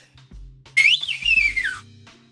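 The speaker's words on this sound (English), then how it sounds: "I was literally outside just learning how to whistle" A person whistles outdoors while learning how, producing a loud, shrill rising-and-falling tone lasting about a second, with faint low background rumble before and after.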